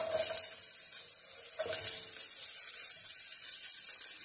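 Onion fries in a pot for a red cowpea curry, giving a soft continuous sizzle broken by occasional stirring scrapes, close but fairly quiet.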